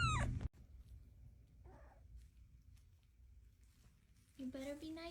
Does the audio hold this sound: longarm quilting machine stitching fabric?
no